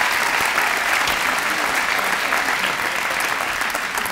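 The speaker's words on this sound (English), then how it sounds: "how about we give an equally huge round of applause to Mr. Matt Vicentainer" Sustained applause from a crowd at an employee recognition celebration, steady and loud throughout, with clapping blending into a dense wash of sound.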